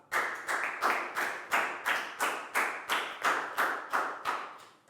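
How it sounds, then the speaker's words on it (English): In a classroom, a steady run of about eleven rhythmic hand claps sounds close and clear, evenly paced like a group clapping in unison for a pupil. "High five and a big round of applause for Pat."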